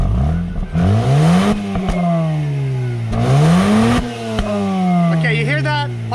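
A 2004 Mazda RX8 rotary engine runs close by, its pitch swinging up and down between idle and light revs, with a few sharp exhaust pops. Someone talks over the engine.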